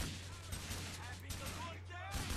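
Gunfire bursts in Grand Theft Auto IV, rapid volleys of shots crackling continuously across the clip over a low steady hum, with voices talking underneath.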